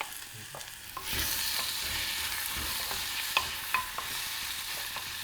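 Kimchi and garlic are stir-fried in a pan for a Korean soft tofu stew, giving a continuous close sizzle with repeated spatula scrapes and taps from constant stirring, no voices.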